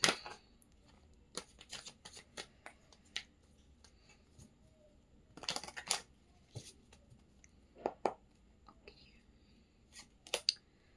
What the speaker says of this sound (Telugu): షఫుల్ చేస్తున్నాను